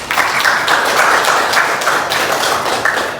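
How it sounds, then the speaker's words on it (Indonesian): An audience at a university presentation session gives a round of applause, with dense, steady clapping throughout, loud and close. "Aplaus dulu."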